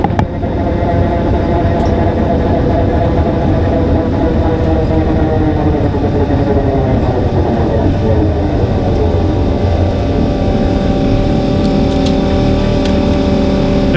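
A drag racing car, the "Hurricane", makes a full-throttle pass that ends in the 10-second range, with a loud, dense engine roar held steady throughout, rising harmonics sweeping upward, and no talk.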